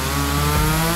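A chainsaw runs steadily at high revs, loud and close, with a dense buzzing drone that barely changes over the short stretch.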